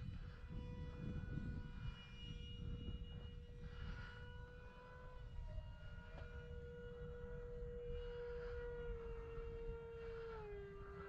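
Electric motors of an RC model airplane in flight drone with a steady tone, holding a sustained pitch that shifts and drops near the end, fairly distant and faint against wind-like noise.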